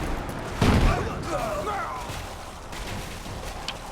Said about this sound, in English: I'm under fire! Incoming!